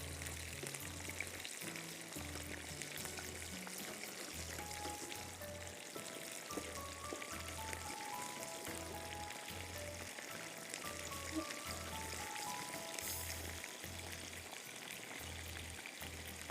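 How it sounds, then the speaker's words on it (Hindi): Noodles refrying in hot oil until crispy, a continuous dense sizzle and bubbling crackle that stays steady and close throughout. "अभी मैंने इसको फ्राई किया, हाफ डन करके आप इसको निकाल लो।"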